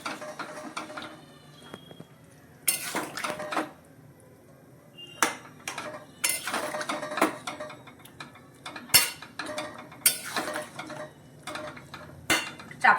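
A metal spatula scrapes and clanks against a pan while jackfruit chili with soy sauce and a splash of water is stirred, irregular bursts of clattering separated by quieter pauses, close and fairly loud.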